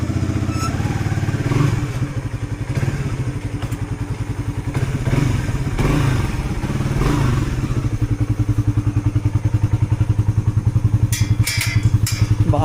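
A motorcycle engine runs steadily and loudly throughout, with a rough low rumble and occasional clattering thumps as it rides along.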